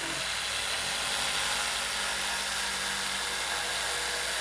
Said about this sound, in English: Using a jigsaw, we cut out the opening that we just traced from the container.